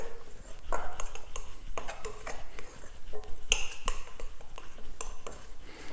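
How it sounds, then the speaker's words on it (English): A knife scrapes and taps against the side of a mixing bowl while bringing flour, butter and milk together into pizza dough, giving irregular clinks and soft scraping strokes close up. "Using a knife, we're going to bring all those ingredients together"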